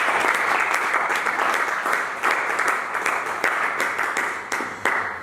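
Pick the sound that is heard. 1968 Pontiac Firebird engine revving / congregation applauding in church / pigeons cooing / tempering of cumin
congregation applauding in church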